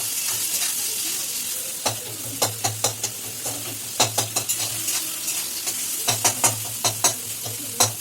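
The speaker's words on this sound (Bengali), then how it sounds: "আর এই পেঁয়াজের মধ্যে আমি সামান্য একটু নুন দিয়ে দেবো, যাতে পেঁয়াজটা একটু ভালো করে ভাজা হয়ে যায়।" Onions with a pinch of salt sizzle steadily in a hot pan while a utensil scrapes and stirs in sharp, irregular clacks close by, with no speech over the cooking.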